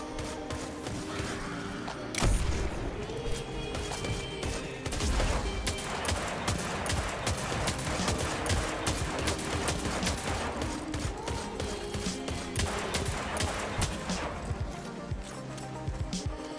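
Weapon fire in Destiny 2 during a mission fight, with repeated sharp shots and bursts popping over a steady game soundtrack and effects, fairly quiet overall and without speech.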